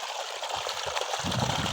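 On a village farm in Gujarat, water gushes hard from a pipe as a steady, close, rushing noise that holds the whole time, with a slightly heavier splash toward the end.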